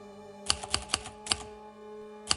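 A man works a typewriter: a brief run of sharp, distinct keystrokes in an uneven rhythm, a few quick strikes with short pauses, close and clear.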